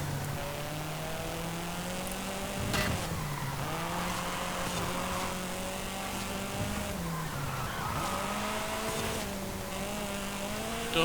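A Mitsubishi Galant VR-4 racing in A Class in Forza Horizon 5, its engine droning steadily and rising and falling through gear changes, with occasional tire noise and no talking.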